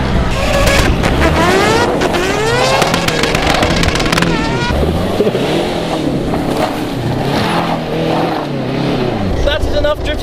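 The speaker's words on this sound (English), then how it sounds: "That is enough drifting for today" A car drifting, engine revving hard and rising and falling in pitch with squealing tire noise, loud and continuous, with voices talking over it.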